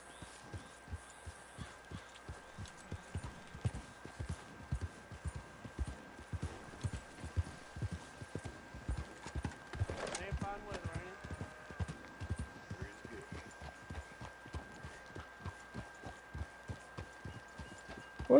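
Horse hooves in Red Dead Redemption 2 clip-clop in a steady, even rhythm throughout, close and moderately loud beneath a constant tone, with brief speech near the middle.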